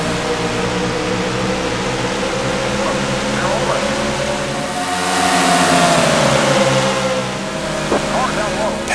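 NASCAR stock car engines in the NASCAR Racing 2 video game accelerating at a race start, a steady loud engine drone with a rising whine as the cars pull away, with a voice talking over it.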